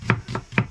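Three quick knife chops finely cutting an onion on a cutting board, evenly spaced and close by, with no voices.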